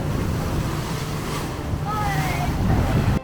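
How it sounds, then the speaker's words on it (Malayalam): Boat ride on open water in the Jubail Royal Commission area, Saudi Arabia: steady engine and hull rumble with wind buffeting the microphone and water wash, continuous and close throughout. "നമ്മുടെ സന്തോഷകരമായ ബോട്ട് യാത്ര അവസാനിക്കുകയാണ്."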